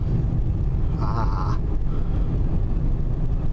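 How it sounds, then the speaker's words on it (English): A car without air conditioning drives with the window rolled down, giving a loud, steady low rumble of engine, road and wind buffeting that runs throughout, with a brief tonal squeal partway through. "riding in my car with no air conditioning, got my arm out the window"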